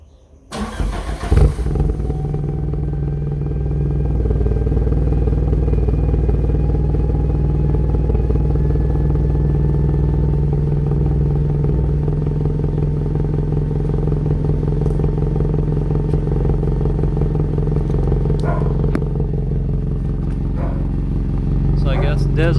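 A Toyota Corolla with a 4AGE 20V engine idling after startup, its exhaust giving a loud, steady low rumble close by that holds evenly throughout, with a few light clicks near the end.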